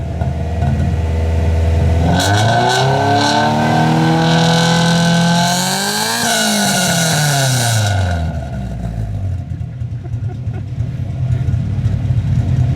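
Cheap Honda car engine revved hard while cold, climbing from idle to a high screaming pitch, held, then falling back down to a rough idle; loud and near, with no talking.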